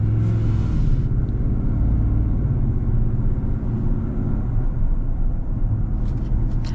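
A lifted 2024 Ram 1500 Rocky Ridge pickup on 35-inch tires cruises along, heard from inside as a steady, loud low rumble of engine and road noise with no speech.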